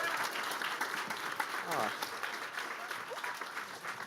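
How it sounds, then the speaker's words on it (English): Sustained applause from an audience at a web development demo day held at Google HQ, steady and full throughout, with a brief voice calling out over the clapping. "Big round of applause."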